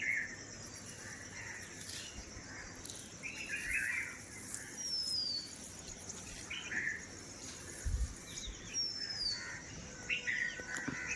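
Small birds chirp and tweet in repeated bright calls while grain is scattered for them outdoors, mixed with a steady insect-like buzz and soft background rustle, all fairly faint.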